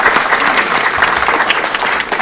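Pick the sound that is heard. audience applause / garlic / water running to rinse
audience applause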